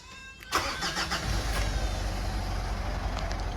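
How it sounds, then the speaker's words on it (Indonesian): An automatic Mitsubishi Pajero engine is cranked and catches after a brief starter whir, then settles into a steady, loud close-up idle that runs on alone. "kita coba starter"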